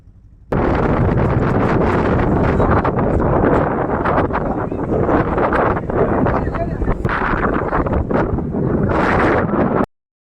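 Strong wind roars across the open coast at Dhanushkodi, a loud, continuous buffeting rush into the microphone lasting nearly ten seconds before cutting off abruptly.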